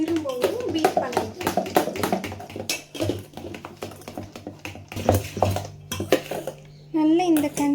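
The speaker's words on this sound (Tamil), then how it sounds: "இதை ஊற்றிட்டு நம்ம வந்து திரும்பவும் பீட் பண்ணணும்." Cake batter is beaten in a bowl in a home kitchen, with quick rattling clinks of a utensil against the bowl coming in rapid irregular bursts while someone talks over them.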